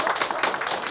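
Brief burst of audience applause at a reading forum, a dense patter of many hands clapping close by, uneven and lively throughout the short moment.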